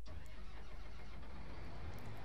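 Engine of a new combine harvester in Farming Simulator 19, a steady low mechanical rumble running continuously and fairly quietly without breaks.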